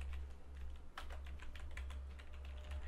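Quiet, steady typing on a computer keyboard, a run of soft rapid key clicks over a low constant hum, with no talking.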